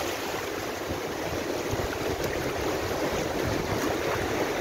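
Sea waves wash ashore on Digha beach, a steady, continuous roar of surf mixed with wind, loud and unbroken throughout with no distinct individual breakers.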